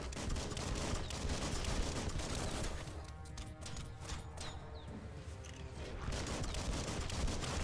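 Gunfire from enemy gunmen in the video game Biomutant, a steady dense barrage of shots running throughout, loud and continuous with little let-up.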